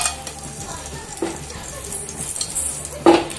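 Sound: cinnamon and cloves frying in hot oil

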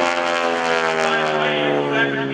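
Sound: aircraft engine rumbling during airshow barrel roll

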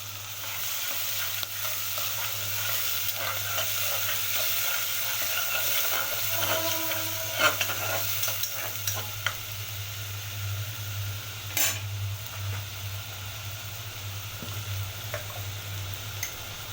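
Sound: garlic paste frying in a pan for shrimp with spinach

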